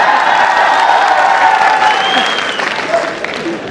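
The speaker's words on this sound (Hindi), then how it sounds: "अब के और ज्यादा शोर बजा और तालियों की आवाज ज्यादा आनी चाहिए" A comedy show audience claps and cheers for comedian P K Mast, loud, close applause mixed with crowd noise and a few whoops, tapering off over the last second.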